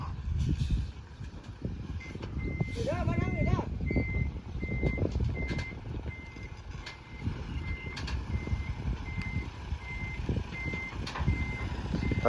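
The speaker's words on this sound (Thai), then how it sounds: "พาร์ทนี้ก็ จะเป็นพาร์ทที่ ถ่ายเฉพาะงานดำของรถพ่วงนะครับ" An 18-wheel semi-trailer dump truck reversing, its backup alarm beeping in an even repeated rhythm over a low engine rumble and gravel noise, moderately close at a Thai roadwork site where laterite is being hauled for a new road.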